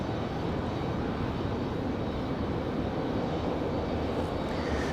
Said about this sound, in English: Speaking of CRJs, this one looks like it might be headed up to the box to wait for some